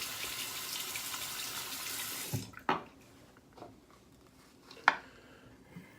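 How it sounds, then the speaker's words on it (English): Tap water runs steadily into a sink for about two seconds and then stops, followed by a few sharp knocks and clatters against the basin in an otherwise quiet room. "Gonna add a little bit more water."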